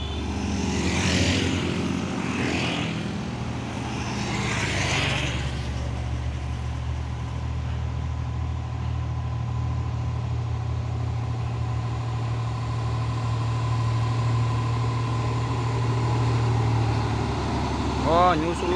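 A Hino 500 truck drives past on a road as part of a truck convoy, its engine a loud, steady low drone close by for most of the stretch, with people talking over the start and a brief squeal near the end.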